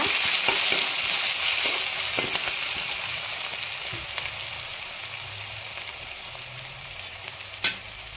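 Loud, close sizzling as garlic and chilies fry in hot oil in a large wok, with a few scraping stirs and a sharp clatter near the end; no voices.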